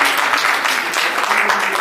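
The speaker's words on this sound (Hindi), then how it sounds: "जोरदार तालियां बनती हैं।" An audience at an honouring ceremony for a senior Hindi woman writer gives loud, dense applause, a continuous close wash of many hands clapping at once.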